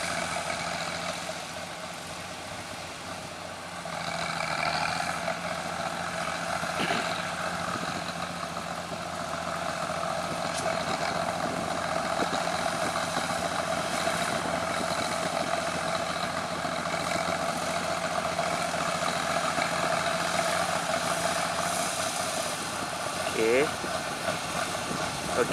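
A tracked tractor stuck on the road to Bongor, Mudong, idles with a steady, continuous low engine rumble throughout, with faint voices now and then.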